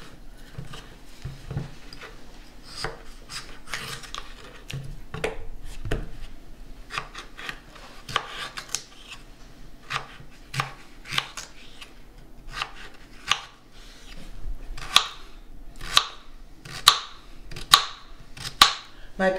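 A knife dices peeled, washed potatoes into small cubes on a cutting board, giving close, crisp chops. They start scattered and irregular, then turn into a steadier, sharper run of cuts toward the end, with no speech.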